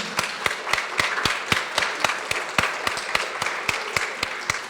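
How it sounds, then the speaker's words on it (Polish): A small audience at a calendar presentation claps for a photographer, sparse hands producing distinct, fairly regular sharp claps with a lighter patter of other clapping underneath, close and moderately loud. "Prosimy o brawa dla Karoliny."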